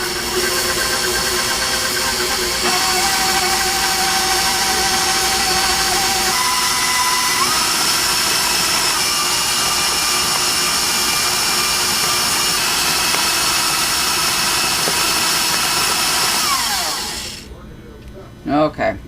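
Stand mixer with a paddle attachment creaming fudge ingredients, a loud steady whirring motor drone that runs continuously for about seventeen seconds before shutting off, with a few faint clinks at the end.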